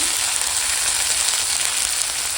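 Onion, chopped tomato and ginger-garlic paste fry with salt in a pan, giving a loud, dense, continuous sizzle heard up close.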